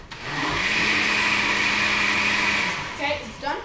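A kitchen blender whirs steadily while blending a dessert, loud and close, spinning up at the start and running evenly for about three seconds before cutting out, followed by a couple of brief clinks or voice sounds.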